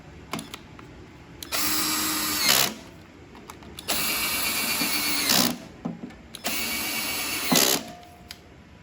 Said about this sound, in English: So now that we got everything bolted in, just torque them down.